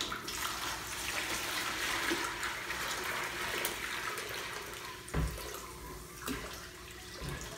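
Water pouring steadily into a JBJ Cubey 15-gallon aquarium, a continuous broadband splashing rush with a couple of brief louder gurgles near the end, close and without voices.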